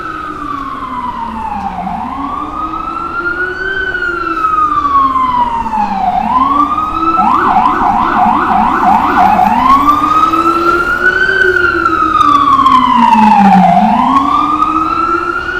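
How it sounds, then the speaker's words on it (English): Loud emergency vehicle sirens in Midtown Manhattan, New York City, rise and fall in long sweeps, with a quick yelping stretch in the middle, over a steady background of traffic. "Crazy traffic, sirens,"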